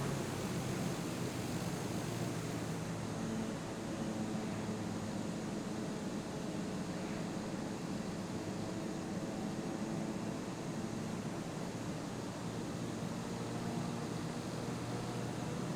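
A small aircraft flying over New York City makes a steady, broad engine and wind roar inside the cabin, constant and unchanging throughout with no talk.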